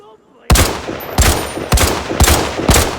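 After a brief quiet moment, five loud gunshots ring out at an even pace in the game Arena Breakout, each sharp blast trailing off into a short echo.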